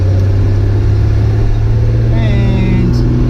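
A home-built Datsun 240Z engine runs with a loud, steady low rumble and slight revving near the end, heard up close.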